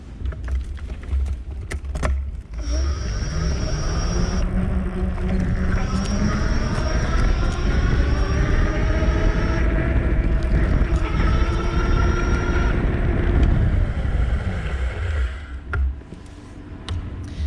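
Electric motor whine from a MAXFOOT MF19 e-bike ridden at pedal assist level 5, rising and steady under loud rushing wind noise for most of the stretch, then fading away near the end.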